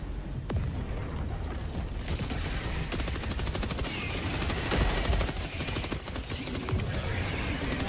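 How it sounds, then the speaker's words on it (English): An automated sentry turret in Helldivers 2 fires long, rapid, rattling bursts amid loud battle noise, with a voice briefly audible underneath. "My turret's actually doing some work"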